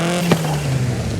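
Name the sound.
turbo rally car engine revving in video game Forza Horizon 5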